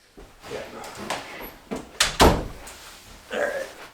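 A door closes with a loud thud near the middle. Brief speech and rustling come before the thud, and a voice follows it.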